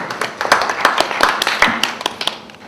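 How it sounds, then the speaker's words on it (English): A small audience at a pub quiz in Pontefract gives a short round of applause, with sharp, distinct claps from fairly few hands, scattered and irregular, loud and close. "A little round of applause for that one, I think."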